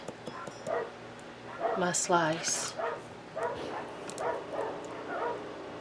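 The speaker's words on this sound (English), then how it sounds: "Why are the dogs barking?" Several dogs bark and yip in short bursts at a moderate distance, while a person talks quietly over them indoors.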